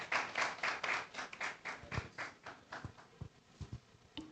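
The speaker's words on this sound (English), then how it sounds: "Shall we welcome him with a big round of applause?" A small audience at a public engagement event in Koforidua claps to welcome a speaker, brief uneven bursts of hand claps that thin out into scattered, separate claps, fairly quiet and without talk.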